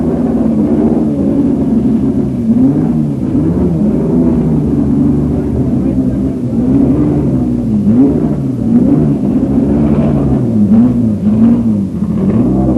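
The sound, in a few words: Ferrari racing cars driving off onto wet circuit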